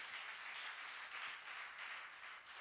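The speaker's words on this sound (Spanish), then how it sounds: "Dele un aplauso al Señor." A church congregation claps during a sermon, a soft, distant wash of many hands clapping together, steady for a couple of seconds.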